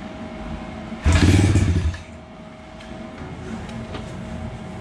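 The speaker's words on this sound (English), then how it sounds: "I tried to kick it once already and it wanted to go, so let's see what it does." The big bore engine of a 2019 SSR 170tx pit bike is kicked over, giving a brief loud burst of rough mechanical clatter that fades back into quieter background noise.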